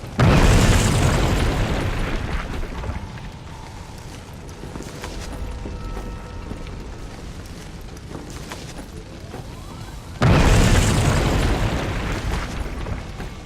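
Two heavy, booming video game explosions, one at the start and another near the end, with a low rumbling din filling the stretch between them, in We Happy Few.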